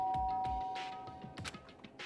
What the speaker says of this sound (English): Byakuya stood in front of her door, not making a sound, and pressed the doorbell.